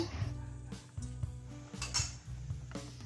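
Metal clanks and scrapes as a pork leg is turned over in a cooking pot simmering on medium heat, with several close knocks against the pot over a low bubbling background.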